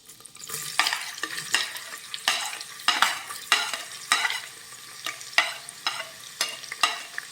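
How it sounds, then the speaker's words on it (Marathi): Onions and curry leaves sauté in a pan for misal, with a steady run of loud, rhythmic stirring strokes over a continuous sizzle, each scrape distinct and close. "आता हा कांदा हलक्या सोनेरी रंगावर परतून घेऊयात"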